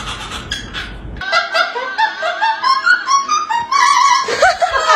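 A pet parrot mimics its owner's voice in a loud, close run of warbling, pitch-sliding squawks and honk-like calls, following a short burst of rough noise at the start.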